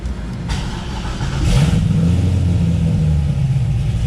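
A tuned Corvette engine catches and revs up, a loud, steady mid-pitched roar that swells after a brief lead-in and holds near and strong with a slightly burbly edge.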